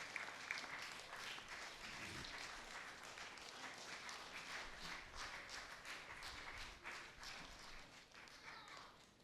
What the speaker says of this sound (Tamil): கைத்தட்டி வாழ்த்துவோம்